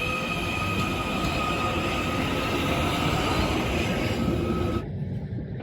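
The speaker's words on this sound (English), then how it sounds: "I'm sat on the train at Liverpool Lime Street." Interior of a train waiting at Liverpool Lime Street station, a steady loud rumble of idling engines and ventilation with a constant high whine, cutting to a quieter hum near the end; no one talks.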